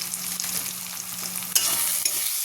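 Ground spices — turmeric, Kashmiri red chilli, cumin and a little coriander powder — sizzle steadily in a pan while being stirred, with a brief louder scrape partway through; no voices.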